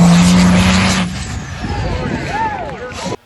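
A monster truck powered by a 12-valve Cummins diesel roars loudly at first, then drops to a lower rumble with rising and falling revs before it cuts off abruptly.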